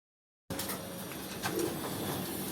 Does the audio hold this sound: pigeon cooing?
yes